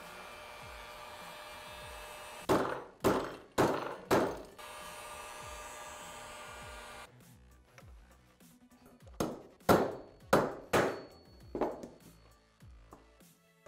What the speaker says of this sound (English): we'll drive one bearing on top of the other